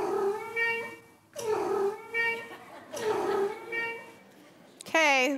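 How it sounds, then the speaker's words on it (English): A hungry cat meows insistently, four or five long wavering calls in a row, close and fairly loud, ending with a higher, sharper cry. "One is a cat who wants food, and one is a cat who is stuck behind the door."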